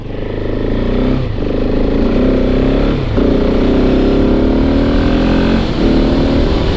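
Husqvarna 701 Enduro motorcycle ridden at slow speed, its single-cylinder engine droning loud and close with a steady throbbing note that dips and rises slightly as the throttle changes.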